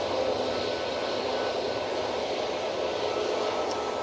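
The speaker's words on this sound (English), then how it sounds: "This Tui's off to split. Using the 737-800 for this flight." TUI Boeing 737-800 airliner taking off at Manchester Airport, a steady broad jet roar heard from a distance, continuous and even throughout with no voices.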